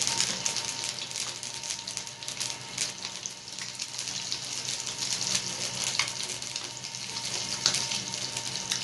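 Chicken, potato and egg kebabs fry in a pan with a steady, close crackling sizzle that holds at an even level throughout, with small pops scattered through it and no voices.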